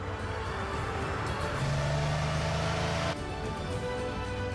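A restored classic Porsche sports car engine hums steadily while driving, with a brief rising rev in the middle before settling back to a smooth drone.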